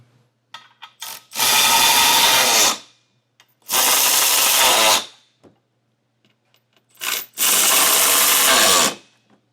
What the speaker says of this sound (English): And once all your hardware is just hand started, you can then snug it down.